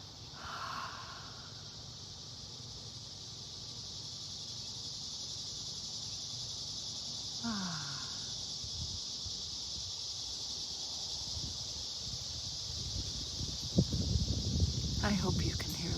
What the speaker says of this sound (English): when you slow down the sound of the cicadas